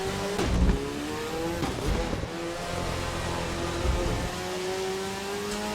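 A race car in the video game Assetto Corsa EVO holds a steady, close engine note with rising and falling revs and gear changes, loud throughout and with no voices over it.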